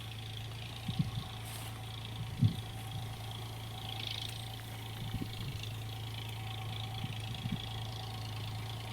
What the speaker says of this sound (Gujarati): જો આ ટ્રેક્ટર ચાલે છે